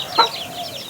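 A single hen clucks once, fairly close, with faint bird chirps and a steady background hum continuing around it.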